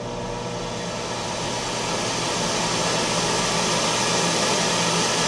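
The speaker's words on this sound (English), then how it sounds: "I can set this up to 100 and you can hear how loud it's going to be" ADJ Entourage professional hazer's fan (rated 15,000 CFM) running at full speed, a loud, close, steady broadband roar that swells slightly over the first seconds and then holds constant, with no talking.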